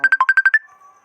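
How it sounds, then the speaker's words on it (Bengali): A phone ringtone for an incoming call sounds as a rapid run of seven bright, even electronic beeps, then fades into a soft trailing tone. "ভিডিও মাঝখানে আমাকে একটা ফোন আসছিল।"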